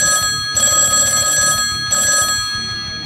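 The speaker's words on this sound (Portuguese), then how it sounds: "Então o telefone toca." An old-style telephone rings in two loud bursts with a brief pause between them, with bright, sustained metallic tones heard alone.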